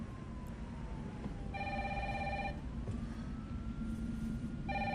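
Telephone in Resident Evil 3 Remake ringing in two repeated electronic bursts over a steady low ambient rumble, moderately loud and close, with no talking.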